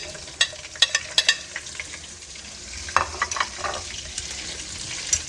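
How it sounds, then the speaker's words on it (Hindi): Chopped green chillies hit hot oil for a tadka while cooking whole masoor lentils, giving a soft, steady sizzle with scattered crackles and pops, fairly quiet and close. "अब हम इस लम्हे पर ये हरी मिर्चें जो कटी हुई है ये भी डाल देंगे"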